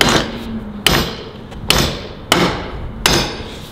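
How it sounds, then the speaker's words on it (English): Hammer blows striking a large steel gun safe, five sharp metallic hits spaced roughly evenly, each ringing out and decaying before the next, loud and close with no talk. "You want to try and hammer that in?"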